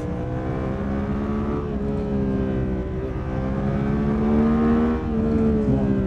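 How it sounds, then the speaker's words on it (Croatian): Suzuki V-Strom 800 motorcycle engine climbing steadily into high revs in second gear, a loud, continuous close-up drone that holds and rises slightly in pitch without a break. "Sad smo išli u crvene obrtaje, brate, ide drugom."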